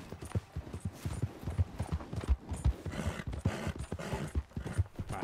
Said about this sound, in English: My horse is snorting.